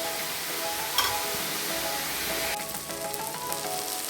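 Onions with curry leaves sautéing in a pan for kuzhi paniyaram, giving a steady close sizzle with a brief scrape near the start and brighter spattering crackle in the second half; no talking.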